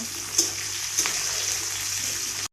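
Chopped onion sizzling and frying in hot refined oil with garlic and dried red chillies, a steady close hiss with a couple of brief stirring clatters, no voices.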